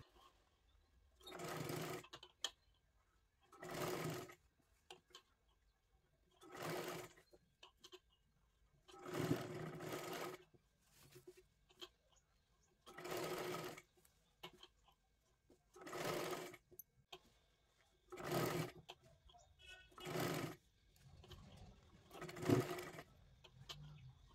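A sewing machine stitches a 32-size katori blouse, running in about nine short even bursts of rapid whirring stitching separated by quiet pauses as the fabric is repositioned.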